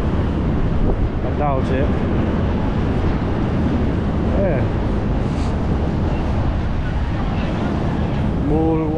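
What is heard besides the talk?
strong wind on Blackpool promenade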